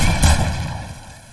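A single gunshot in Fortnite bursts loudly and close at the start, then trails off into a fading rumbling echo over about a second, with no talking.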